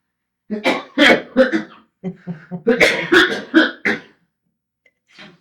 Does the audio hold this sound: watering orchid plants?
no